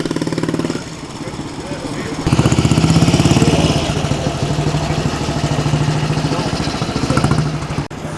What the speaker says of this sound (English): those early 50s single cylinder British motorbikes. Exactly the sort of thing I'd quite like to buy actually. Just sounds lovely